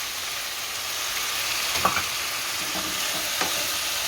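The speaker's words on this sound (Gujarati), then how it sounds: "દૂધીને હારી ભેળવી નાખશું આમાં" Bottle gourd being stirred into onions and potatoes frying in oil for upma, a steady close sizzle with a few soft scraping stirs of the spoon against the pan.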